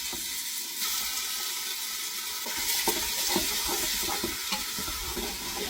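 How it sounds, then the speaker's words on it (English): Beef frying in a pan for a red wine gravy, a steady close sizzle with occasional scraping and stirring knocks, no voices. "then fry my beef off"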